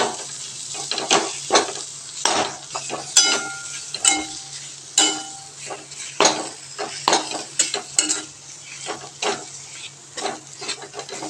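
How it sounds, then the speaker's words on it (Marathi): Khoa roasting and being stirred in a pan over a low flame, with repeated scraping and clinking of a spoon against the pan over a soft, steady sizzle, close by and without talk. "लो फ्लेमवर आपल्याला खवा पूर्णपणे अशा पद्धतीने भाजून घ्यायचा आहे"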